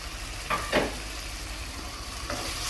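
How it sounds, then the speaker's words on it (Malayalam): Ground tomato paste sizzles softly in a pan while being sautéed for pepper chicken gravy, with a few brief stirring scrapes over a low, steady frying hiss. "നന്നായിട്ട് തക്കാളിയുടെ ഒക്കെ പച്ച സ്മെല്ല് പോകണം, അതുവരെ നന്നായിട്ട് വഴറ്റണം."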